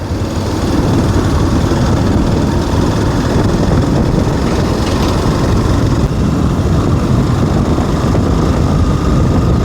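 Container trucks rushing past on a highway heard from a moving Yamaha FZ V3 motorcycle, a loud continuous rumbling roar of engines and wind with no talk.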